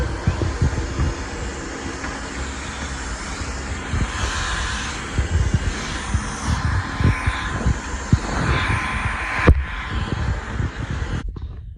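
A Dyson V11 Absolute cordless vacuum with its high-torque head sucks up spilled rice bubbles on a floor, a loud steady motor whine broken by rattling bursts and crackles as the cereal is drawn in.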